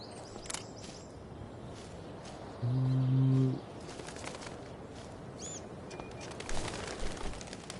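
A bird in the video game Life is Strange coos and flutters off, with a short burst of wingbeats midway over steady outdoor ambience and a few faint chirps.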